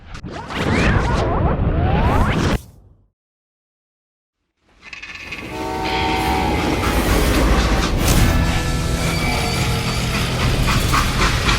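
A freight train in Call of Juarez: Gunslinger rumbles and clatters along the rails with hissing, cuts to silence, then returns louder with rhythmic clicking and squeal.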